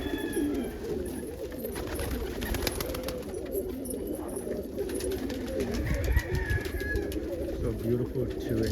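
Homing pigeons cooing in a loft on a warm afternoon, including a dominant opal cockbird, soft low repeated coos layered under close talking.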